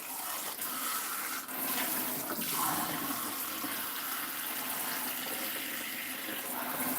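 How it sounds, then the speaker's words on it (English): Steady rush of water poured into a blender, a continuous loud hiss-like flow that runs the whole time with little change and no talking. "I'm going to load it up with 24 ounces of water."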